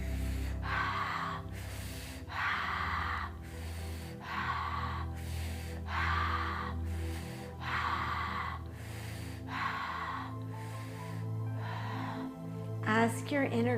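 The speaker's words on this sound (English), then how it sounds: "Breathe into it." Deep, slow breaths during a guided healing breathing exercise: long airy inhales and exhales alternate in a steady rhythm, close and clear over a soft low musical drone, without talking.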